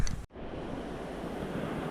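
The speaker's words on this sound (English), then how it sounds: "So this water's moving pretty good." East Carson River water rushing steadily past a road bridge, a dense, even wash of flowing water that fills the whole stretch after a brief dip at the start, with no voices.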